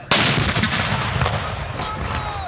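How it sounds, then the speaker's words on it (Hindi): A Pakistan Army artillery gun salute marking the Prophet's birthday celebrations: one sharp, loud cannon blast followed by a long rolling rumble and echo fading slowly in open air. "पाक फ़ौज ने तोपों की सलामी से दिन का आगाज़ किया।"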